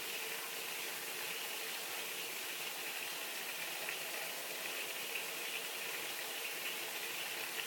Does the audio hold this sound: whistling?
no